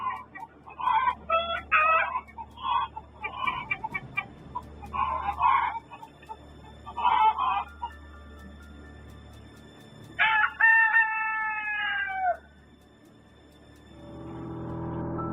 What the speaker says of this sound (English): Listen to the birds in the background before and while the figure appears.